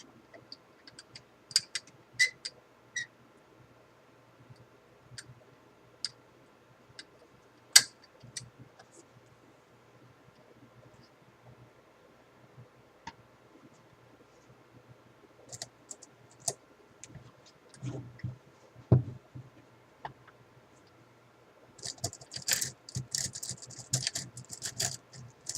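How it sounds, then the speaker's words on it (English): Coins are counted and handled close up for ASMR, with scattered light metallic clicks and ticks across a quiet background, briefly denser rustling clinks near the end. "I'm sure some of you out there do like the sound of rustling coins."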